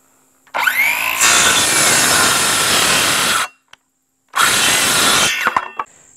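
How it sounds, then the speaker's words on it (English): A power saw loudly cuts wooden wall studs to length for a goat barn, two close cuts, each a sustained whining bite with a brief pause between and the motor spinning down at the end. "what I'm doing now is cutting the parts I need for the little short end wall"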